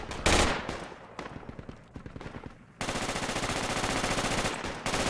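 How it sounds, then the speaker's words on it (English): Gunfire in the tactical shooter Project Reality: a loud opening burst, scattered single shots and short bursts, then a sustained rapid automatic volley that keeps hammering to the end. "Shots. Taking shots."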